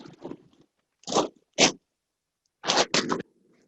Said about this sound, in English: So I'm going to open up the box, put a little bit more paper in.